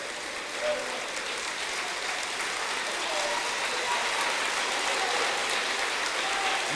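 A church congregation claps together in a dense, continuous wash of applause that holds steady throughout, sounding like rain on a hard surface, with a faint voice now and then underneath.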